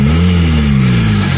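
Isuzu Panther diesel engine, running rough with an oil-consumption problem, revved briefly up close; a loud, steady mechanical drone with a slight rise and fall in pitch, no voices.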